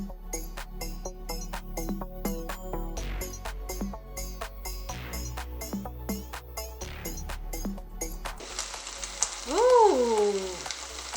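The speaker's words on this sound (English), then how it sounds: "I'm cooking a vegetarian pancit" Vegetarian pancit noodles frying in a pan, a steady sizzle with repeated clinks and scrapes of stirring, and a brief louder hiss near the end.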